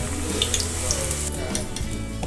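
Wheat flour bhature fry in hot oil, a close, steady bubbling sizzle with small crackles and a light stir near the end, and no voices.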